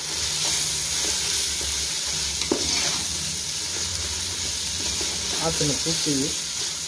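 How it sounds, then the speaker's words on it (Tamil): Handfuls of fresh mint and coriander leaves sautéing in a pan for chicken biryani, a steady close sizzle and frying hiss with faint stirring scrapes underneath. "ஒரு கைப்பிடி போட்டு அதே நல்லா சாட்டே பண்ணுறோம்."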